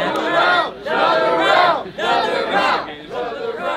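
A fight-event crowd after an MMA or boxing bout shouts and roars in loud, sustained waves, rising and dipping in three or four surges with no single voice standing out.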